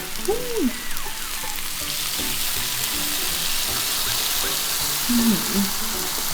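Slices of Kurobuta pork belly grill on a hot pan indoors late at night, giving a steady, dense sizzle with scattered pops and spatter, close and fairly loud throughout with no talking.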